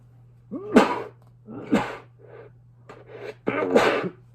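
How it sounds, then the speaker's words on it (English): A series of sharp, loud sneezes in quick succession, close up, with a steady low hum underneath and no talking. "Gotta sneeze."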